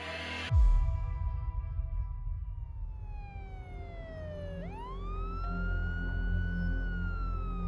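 A fire engine siren wails as firefighters race toward a major gas leak in a West Yorkshire town, the tone sweeping down then climbing back into a sustained high wail over road rumble, moderately distant.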